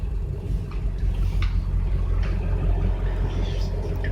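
A 2001 Ford F250 XLT with a 7.3 liter turbo diesel at 279k miles rumbles steadily, heard as a continuous low drone from inside the cab with faint creaks and no talk.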